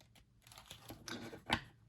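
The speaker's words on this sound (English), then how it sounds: "Let's take a look at how it shuffles." A few quick papery riffles and flicks of a tarot-style oracle deck being shuffled up close, ending in a brighter snap.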